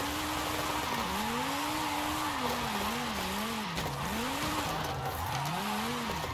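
Car drifting in Forza Horizon 5, tires squealing in a continuous wavering whine as the slide is held, with engine drone underneath throughout, loud and steady with no talking.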